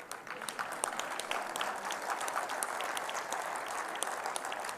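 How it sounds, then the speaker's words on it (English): Sustained applause from an audience at a university oration, steady dense clapping filling the whole stretch at moderate distance, with no break or talk over it. "who is prompting you all the time to clap"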